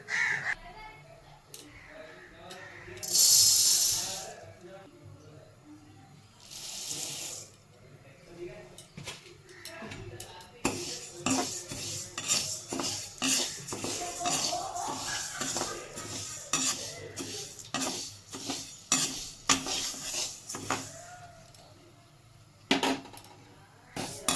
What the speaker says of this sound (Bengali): রান্না করে গ্যাসটা জ্বালিয়ে নিলাম মুগ ডাল বানাবো